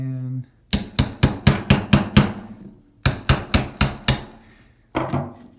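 Roll pins tapped into a CZ P10 pistol frame with a hammer: two close bursts of sharp, evenly spaced metallic taps, about seven then five strikes, followed by one last short pair, near and loud with no talking.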